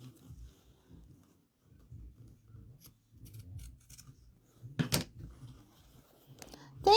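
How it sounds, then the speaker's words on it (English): Scissors trimming a small extra piece of fabric for an appliqué bunny dish towel, a few soft snips and rubbing sounds with a sharper cut near the end, quiet and close. "So I'm just going to trim this extra little piece of fabric here."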